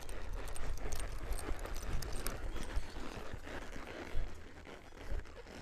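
A horse's hooves thud in a fairly soft, irregular rhythm on the ground during a riding lesson, heard at moderate distance against light outdoor background noise.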